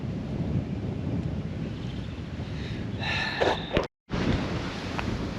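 Strong wind buffets the microphone in a constant low roar while out fishing for carp, with a brief gust of rattling and a sudden dropout near the end.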